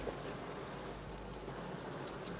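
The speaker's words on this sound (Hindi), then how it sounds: "तो आप देख सकते हैं कितनी बारिश हो रही है बाहर," Heavy rain falls outside in DHA, Lahore, a steady, quiet hiss that stays even throughout with no voices.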